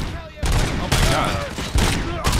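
Rapid bursts of gunfire erupt in the RoboCop: Rogue City video game, loud and close, in repeated volleys that hit hard and fade into the next.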